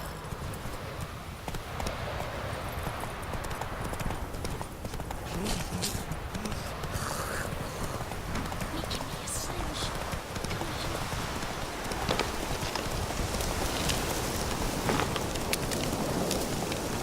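Horse hoofbeats in The Witcher 3: The Wild Hunt, a steady rapid galloping rhythm running throughout over a dense rain-like background wash, moderately loud.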